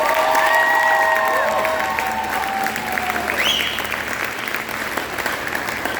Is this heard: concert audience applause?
yes